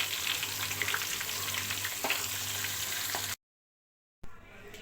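Marinated fish frying in a pan over medium heat, a steady close sizzle and crackle with faint scraping, which cuts out abruptly and then resumes briefly.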